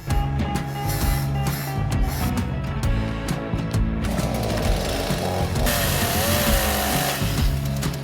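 A chainsaw cutting into a fir trunk, a loud continuous motor roar with a gritty, grinding texture that holds at steady strength throughout.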